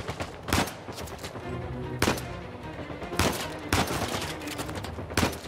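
Rapid bursts of video game gunfire in Uncharted 4 set in the Madagascan wildlands, with sharp shots at irregular intervals over a dense, continuous battle din.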